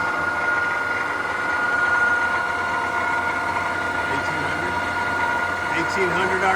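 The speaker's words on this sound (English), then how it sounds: "17-inch by 50-inch Cadillac gap bed engine lathe." A 17-inch by 50-inch Cadillac gap bed engine lathe with a removable gap runs steadily, giving a constant mechanical hum and whine at fairly loud level with no break.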